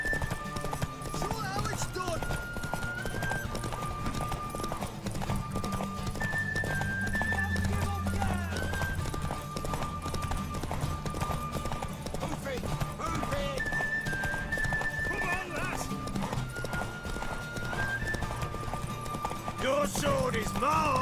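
Horse hooves clip-clop steadily through a Witcher 3 game scene, with occasional whinnies, under voiced dialogue and a music score, loud and continuous throughout.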